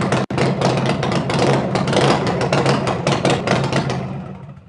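A car engine turns over and runs steadily after air filter maintenance, a loud, full idle with a slight rev that holds for several seconds before fading, with no talk over it.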